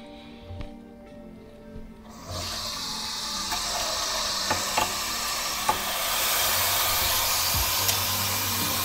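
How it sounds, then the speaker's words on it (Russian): Water pours into a Nova Tour camping pot, a steady rising rush that starts after a couple of seconds of quiet and fills the rest of the clip, close and fairly loud with a few small clinks. "Наливаем воды."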